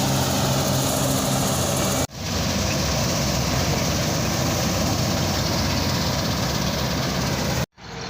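A tractor engine rumbles loudly and continuously up close during a wheat harvest, a steady droning roar interrupted by two brief dropouts.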